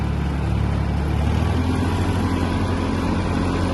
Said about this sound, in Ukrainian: Давайте покажу, як розвертається на задньому приводі